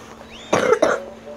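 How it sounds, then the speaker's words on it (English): A sick person gives two harsh, close coughs in quick succession in an otherwise quiet room. "Sorry about my cough because I'm sick"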